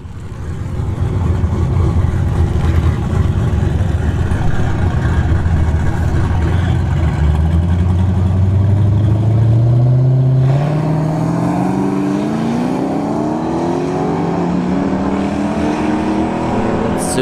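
A G-body car and a Dodge Charger drag race at a dragstrip, one on nitrous. A loud engine roar builds into rising, accelerating howls as the cars launch and pull away, then the sound fades with distance.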